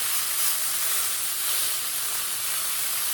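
A pot roast sears in a hot pan, giving a steady, close hiss of broadband sizzle that holds level and alone, with no talk over it.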